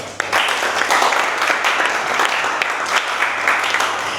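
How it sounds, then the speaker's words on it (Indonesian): A lecture audience in a teaching session applauds, giving dense, sustained clapping at close range that carries on steadily for several seconds with no talk over it. "tepuk tangan dong semuanya"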